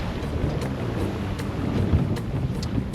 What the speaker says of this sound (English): The wind feels like a lot stronger going this way.